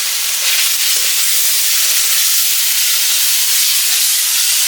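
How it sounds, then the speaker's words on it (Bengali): Turmeric and spices frying in a pan hiss and sizzle steadily as water hits them, a dense, close, continuous steamy crackle with no voices. "হলুদ দিয়ে দিচ্ছি, একটু জল দিয়ে দিচ্ছি"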